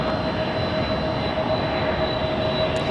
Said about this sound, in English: what just did the go-around was an Air India coming in from Delhi